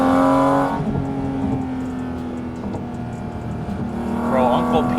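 A Porsche 911 GT4 RS with the Weissach package revs high toward 9,000 RPM, its engine note a loud, sustained buzzsaw-like drone with layered harmonics that swell again near the end.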